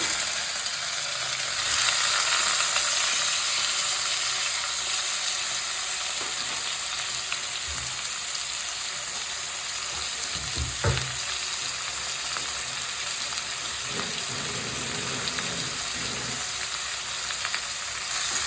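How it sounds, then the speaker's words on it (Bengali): Sliced onions frying in a little hot oil in a kadai while cooking chicken curry, a steady broadband sizzle running throughout at close range, with a few brief clinks and stirring sounds partway through. "এই এখন কড়াইতে পেঁয়াজ দিয়ে দিলাম।"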